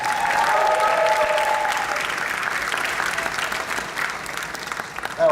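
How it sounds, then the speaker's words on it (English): A convention audience at an anime con opening ceremony applauds steadily, a dense wash of clapping that carries throughout and tapers slightly toward the end, with faint crowd murmur underneath. "Give them a round of applause, everyone."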